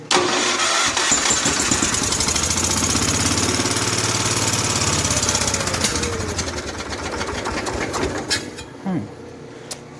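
A John Deere 140 H1 lawn tractor engine cranks and catches, running loud and rough close by for several seconds before winding down and cutting out; a bird calls faintly in the background.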